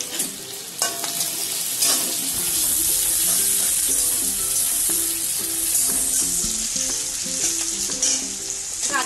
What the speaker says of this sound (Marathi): त्यातच आपण आता जी शिमला मिरची कापलेली होती ती शिमला मिरची टाकून घ्यायची.